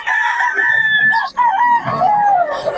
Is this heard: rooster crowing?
yes